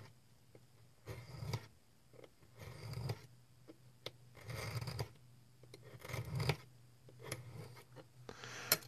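A blade makes light cutting strokes through packing material while a crate is opened, giving a series of short, soft rasping cuts spaced by pauses, close and fairly quiet.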